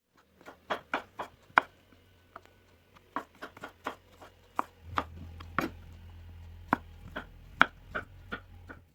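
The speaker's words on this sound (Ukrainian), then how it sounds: "Так, Приступаємо далі різати." A knife slices through fresh porcini mushrooms on a cutting board for drying, sharp close taps in an uneven rhythm, roughly two dozen strikes, with a low hum entering midway and no talking.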